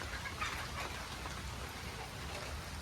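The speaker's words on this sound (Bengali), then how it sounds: "প্রচুর পানি, এখনো বৃষ্টি নামতেছে" Heavy rain falling outdoors on a farm, a faint, steady patter and hiss that continues evenly with no voices.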